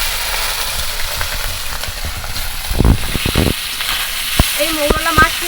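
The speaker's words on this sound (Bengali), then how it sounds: "তেলটাও গরম হয়ে গেছে, আমি কিছু করে কম কম করে মাছগুলো দিয়ে ভেজে নেব।" Small mourala fish frying in hot oil for a traditional Bengali lunch, a steady close sizzle with stirring and a few sharp clinks and scrapes of a utensil toward the end.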